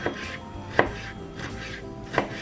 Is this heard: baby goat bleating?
no